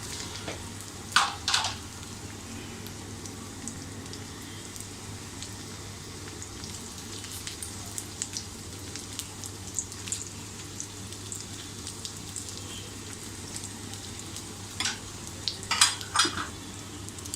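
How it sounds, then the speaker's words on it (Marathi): Soybean cutlets shallow-fry in a small amount of oil with a steady low sizzle throughout, broken by a few brief clinks of a utensil against the pan near the start and again toward the end. "अजून दुसरे कटलेट फ्राय करून घेऊया"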